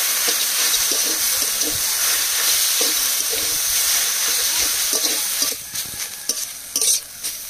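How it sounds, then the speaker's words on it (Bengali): Taro flowers and prawns fry in a pan while a spatula stirs them, giving a steady close sizzle with scraping strokes that loosen toward the end. "চিংড়ি মাছ দিয়ে কচুর ফুল ভাজা হয়ে গেছে"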